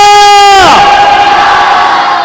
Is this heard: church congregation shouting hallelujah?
yes